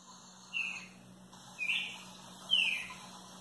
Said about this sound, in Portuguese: a gente pode lembrar do som que os pássaros fazem